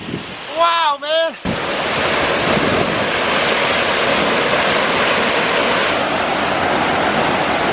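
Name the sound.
Vernal Falls waterfall mist on the Mist Trail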